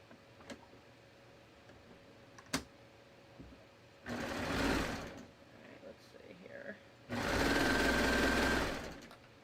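A sewing machine runs in two short, steady bursts while stitching the back empire waist seam of a tee, close and moderately loud, with quiet ticks and pauses between runs.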